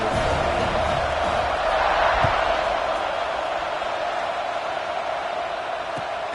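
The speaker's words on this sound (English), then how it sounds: "this crowd is buzzing after that last score" Virtual stadium crowd in a Madden football video game buzzes after a touchdown pass, a sustained, even wash of cheering and murmur with a couple of faint thumps in the mix.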